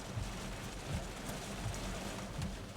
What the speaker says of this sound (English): we just started getting hail falling